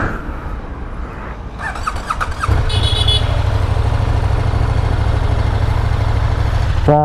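A KTM Super Duke 30 years of Duke motorcycle engine rumbles loudly up close while riding, with a steady low drone that grows heavier and holds constant, and a few brief higher tones over it.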